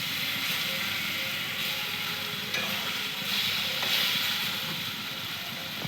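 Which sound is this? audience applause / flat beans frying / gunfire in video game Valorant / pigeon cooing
flat beans frying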